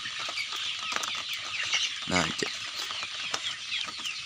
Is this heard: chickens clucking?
yes